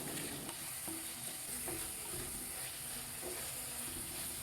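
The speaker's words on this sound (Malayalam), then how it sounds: "അടിക്ക് പിടിക്കാണ്ട് നന്നായിട്ട് വഴറ്റിക്കൊണ്ടിരിക്കുക." Beef fry being stirred and sautéed in a pan, with a steady loud sizzle and hiss running throughout and scattered scraping stir strokes close by.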